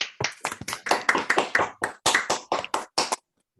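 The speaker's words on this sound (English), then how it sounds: "Let's all unmute ourselves and give a round of applause." Scattered hand claps from a few participants in an online combinatorics seminar after a talk, about a dozen sharp separate claps at uneven spacing, close and dry, then silence.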